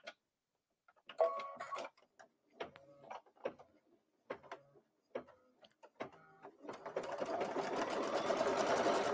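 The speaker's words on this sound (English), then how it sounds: "now I'm going to stitch the tack down line." An embroidery machine stitches a tack-down line on a Kimberbell reverse-applique mini quilt, a run of short close mechanical clicks and whirs in bursts that settle into a steady continuous whirring hum.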